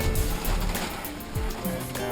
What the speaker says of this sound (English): Waves are starting to come up a little bit.